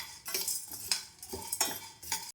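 A spoon scrapes and stirs through idli podi lentils and curry leaves as they dry-roast in a pan, a few close, rhythmic scraping strokes with light rattling and no voices.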